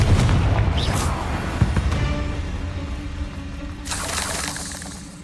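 Hogwarts Legacy spell combat with the Confringo explosion spell: booming blasts and crackling bursts, a heavy low rumble early and a bright burst near the end.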